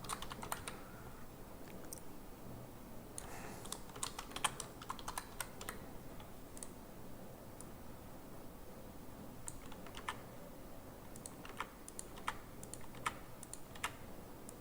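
Someone types on a computer keyboard while editing jQuery code, producing soft, close, irregular key clicks that run steadily throughout with no talking.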